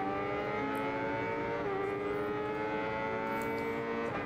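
Motorcycle engine in the Ride 5 racing game, heard from the helmet view and muffled by the helmet, a steady droning hum with slight pitch shifts, continuous and without talk.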